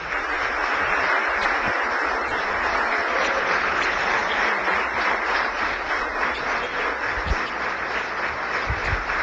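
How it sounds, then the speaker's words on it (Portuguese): Church congregation gives the pastor a sustained welcoming round of applause, dense and steady throughout at close range with no talking over it. "Então, eu gostaria agora que você desse aí uma salva de palmas."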